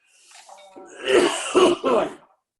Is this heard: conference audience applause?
no